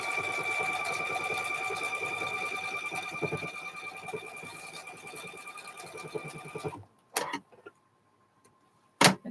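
A home sewing machine stitches a quilt with a steady, fast mechanical whir that runs close and loud for about seven seconds, then stops abruptly, followed by a few short clicks and handling knocks.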